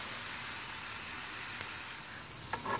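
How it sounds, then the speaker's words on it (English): Mushrooms fry in a pan with a steady, even sizzle throughout, close and constant, with a couple of brief louder spatters near the end. "I'm gonna add the mushrooms, and I'm gonna cook until they brown"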